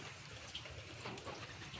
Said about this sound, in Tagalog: Maulan po kasi sa labas